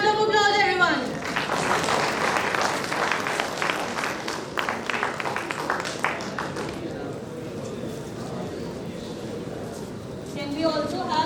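A conference audience claps steadily for about ten seconds, a dense patter of hands in a hall, with a voice speaking briefly at the start and again at the end.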